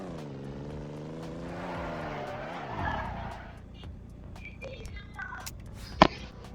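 A paid car in the Roblox-style game Car Crusher 2 revs and slides with a drawn-out engine whine that drops in pitch, followed by a sharp impact-like click near the end.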